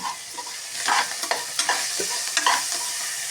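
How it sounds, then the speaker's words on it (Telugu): Tomatoes frying in a pan for a simple biryani, with a bright crackling sizzle and a few sharp clinks and scrapes as they are stirred, close up and with no voices. "ఇప్పుడు టమాటా వేస్తున్నాను."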